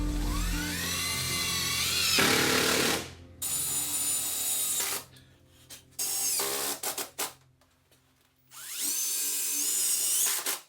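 A drill boring a hole in a mini cabin camper build, whining in several loud bursts with rising and falling pitch, separated by short quiet gaps.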